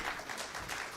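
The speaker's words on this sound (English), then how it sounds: "all need to give a large applaud to today's speaker as well as chair." A lecture-hall audience applauds at the close of a memorial lecture, dense steady clapping from many hands filling the whole moment with no voices over it.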